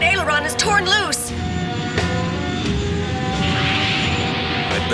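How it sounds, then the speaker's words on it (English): Cartoon spacecraft retro rockets firing, heard as a steady engine roar and drone beneath animated dialogue, with whooshing tonal sweeps near the start. "I am now engaging retro rockets 3 and 4."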